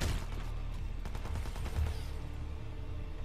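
Rapid gunfire from two guns in the video game Hitman Absolution crackles in dense bursts, fairly quiet, with the shots fading into a low background hum.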